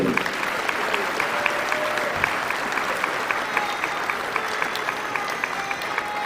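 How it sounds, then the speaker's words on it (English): Audience applause for Brian Johnson at a scouts awards ceremony, steady sustained clapping from a hall full of people with a few sharper individual claps standing out throughout. "Round of applause, Brian Johnson"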